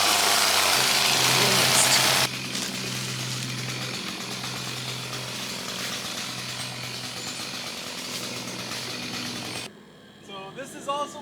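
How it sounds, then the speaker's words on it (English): A chainsaw idles and runs at close range on a food forest farm in Rincon, Puerto Rico, with a low buzzing engine drone, then cuts off near the end, leaving quieter background sounds. "Chainsaw is a necessary tool"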